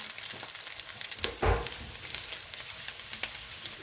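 Tuna patties frying in hot oil, a steady crackling sizzle with scattered pops and a brief louder surge, no voices over it.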